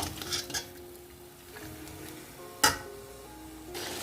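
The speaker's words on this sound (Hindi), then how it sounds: "तो इसको मैं तकरीबन 5 मिनट और अच्छे से भूनूंगी।" Spices and ingredients for jungle pulao fry in a pot while being stirred, giving a low, steady sizzle broken by a few light scrapes and clinks and one sharp metallic clank of the spoon against the pot.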